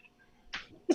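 A short cough bursts out once, then a sharper second cough follows near the end of a quiet one-second stretch, close and fairly loud against faint background.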